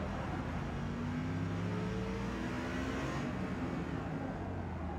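A Lexus RC F race car in Forza Motorsport on the Indianapolis circuit, its engine droning loud and steady as it accelerates hard on stock tires, the tone rising and holding with no voices over it.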